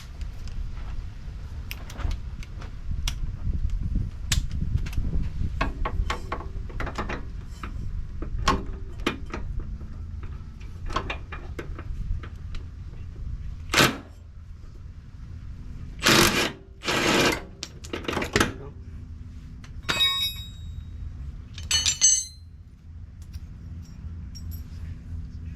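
Pneumatic impact wrench loosening the front shock absorber nut on a Mitsubishi Montero, heard as several short hammering bursts of a few seconds each, loud and close, after a stretch of clicking and handling noise.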